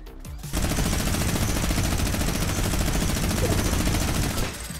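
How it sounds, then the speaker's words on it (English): Rapid bursts of gunfire in a Fortnite match, a dense run of shots rattling steadily for several seconds before cutting off, loud and close with no talk over it. "how did only one of those shots hit?"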